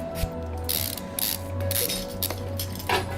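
Ratcheting and clanking of a wrench bolting a car part back on in the mechanic game Car Mechanic Simulator 2015, a run of clicks and gear-like rattles over a steady low hum, fairly close and even.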